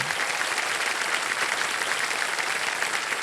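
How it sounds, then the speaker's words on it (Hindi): A quiz show's studio audience applauds in a steady, dense roar of clapping that holds at an even level from start to finish, with no voices over it. "इतने लोग सब ताली बजा रहे हैं"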